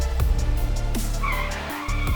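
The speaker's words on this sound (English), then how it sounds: "Dr. Lee stops the car and instructs his henchman to go down and check." A car skids to a halt on the road, with a loud, close tire squeal and a rumbling engine through a short, sustained stop, and no voices.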